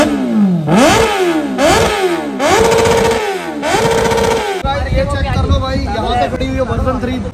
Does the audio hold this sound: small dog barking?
no